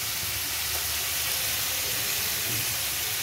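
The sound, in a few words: shrimp frying in a pan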